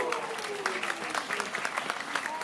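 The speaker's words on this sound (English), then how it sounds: "I think that was a delayed clapping" Audience clapping at a nonprofit network launch event, a steady smattering of hands over a faint tonal hum, moderately loud and without talk.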